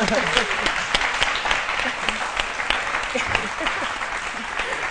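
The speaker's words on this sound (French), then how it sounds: "On applaudit pour Lynn Jabert." An audience applauds steadily on a television talk show set, a continuous wash of clapping with a presenter's voice and some crowd noise underneath.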